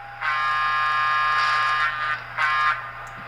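An N scale BLI PRR P5a box cab model locomotive gives a long electronic horn blast, then a shorter second blast, both steady buzzy tones over a faint background hum.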